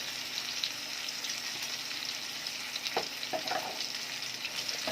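Chili, turmeric and cumin powders sautéing in hot oil for khichuri, a dense continuous sizzle up close with a few spatula scrapes and knocks near the end, no voices.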